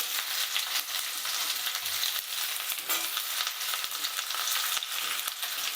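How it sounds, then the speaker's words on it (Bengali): Mixed vegetables with pumpkin sizzle in hot oil for a vegetarian drumstick curry, a steady loud crackle with occasional scrapes and knocks as they are stirred in the pan. "আবার একটু নাড়াচাড়া করে দিলাম এই সবজিগুলো বেশ ভালোই ভাজা হয়ে গেছে"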